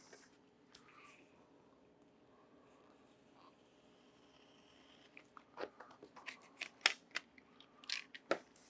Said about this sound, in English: you're going to cut it right along the stitch line. We're just going to cut these ears off of it.